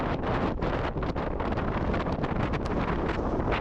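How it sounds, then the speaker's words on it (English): Strong wind on Ocracoke Island buffets the microphone in a loud, continuous rumbling roar with gusty surges, no voices heard. "It seems like it's kind of windy."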